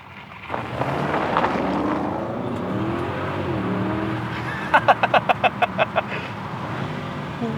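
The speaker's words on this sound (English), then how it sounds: "proper V8 petrol sounds" An Audi SQ7's V8 petrol engine revs and accelerates from inside the car with wind noise, followed by a quick burst of rapid rhythmic pops near the end.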